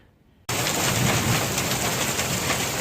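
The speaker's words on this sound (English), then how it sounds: "It's a disaster outside. There's lots of sleet, or hail rather" Hail and sleet pelt the ground and roof outside a trail shelter on the Appalachian Trail, a dense, steady hiss of icy patter that starts abruptly after a quiet moment and stays loud and close throughout.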